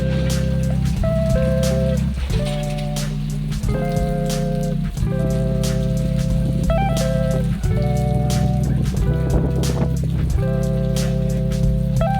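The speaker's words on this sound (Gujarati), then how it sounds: "આ જવો વરસાદ કેટલો બધો છે." Steady rain pours down by a dam with a constant rushing hiss, overlaid by a repeating tonal music pattern that loops throughout.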